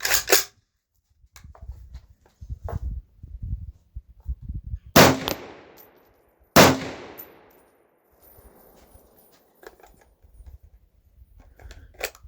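Remington 7400 semi-automatic rifle firing during a 10-round magazine test: two loud, sharp gunshots a second and a half apart, each with a long echoing tail, amid quieter handling clicks and rustling before and after.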